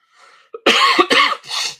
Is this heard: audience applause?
no